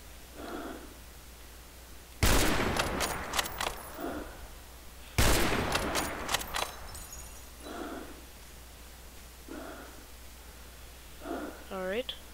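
Two loud, close bursts of gunfire ring out after a reload, each a sharp blast trailing into echoing cracks, with someone speaking in between.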